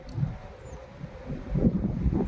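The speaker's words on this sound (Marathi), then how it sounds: "नाही वारा ह्या साईडने येतोय," Wind blowing steadily past the microphone, a low rumbling gust that swells louder toward the end.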